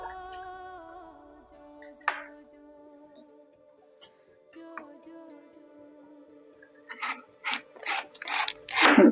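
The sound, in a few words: knife slicing banana stem into thin rounds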